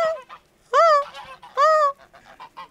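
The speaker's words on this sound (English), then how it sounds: "Wild geese in great V formations honked high in the sky" Wild geese flying south in V formation, giving a quick run of nasal honks: two loud, drawn-out calls stand out among several shorter, quieter ones, with no talking.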